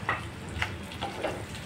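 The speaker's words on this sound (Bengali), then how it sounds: "পেঁয়াজগুলো হালকা একটু নরম হয়ে গেছে, তার উপরে আমরা দিয়ে দিচ্ছি ক্যাপসিকামগুলো" Chopped capsicum drops onto softened onions frying in a pan, producing a quiet sizzle with several soft, evenly spaced stirring scrapes.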